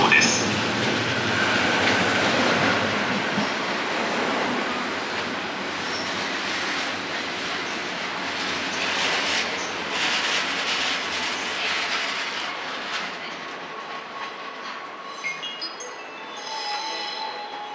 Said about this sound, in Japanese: through service to the Ninkai line will soon arrive on track number 5